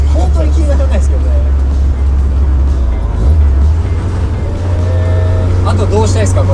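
A Toyota AE86 with a TODA high-compression, high-cam carbureted engine drones loudly from inside the cabin, its low engine note shifting pitch midway as revs change, while people talk over it.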